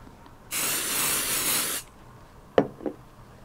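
Temporary spray adhesive hisses from an aerosol can in one steady burst of just over a second onto quilting fabric, followed by two soft taps. No voices.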